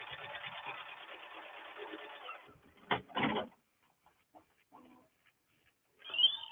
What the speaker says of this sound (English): all you have to do is say yes, and it goes right back and it's ready to start stitching again